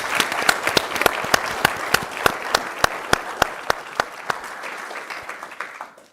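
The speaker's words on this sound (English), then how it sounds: "So a round of applause for our annual sponsors." A modest audience at an event on protecting democracy applauds the sponsors, with individual hand claps standing out clearly over a softer wash of clapping that thins and fades over about six seconds.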